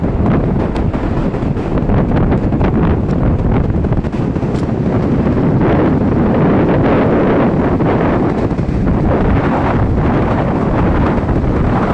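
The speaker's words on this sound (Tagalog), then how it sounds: "Sobrang lakas ng hangin din." Strong typhoon wind roars and buffets the microphone continuously, a loud, rough rumble with no pauses, on a debris-strewn shore.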